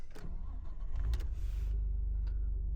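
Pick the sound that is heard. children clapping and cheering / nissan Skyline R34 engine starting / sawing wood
nissan Skyline R34 engine starting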